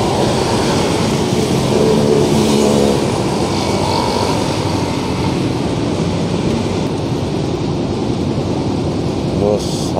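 A Transjakarta bus on a Hino chassis drives past at a busy bus corridor, making a loud continuous engine rumble and road roar that fades slightly, with speech faintly mixed into the traffic noise.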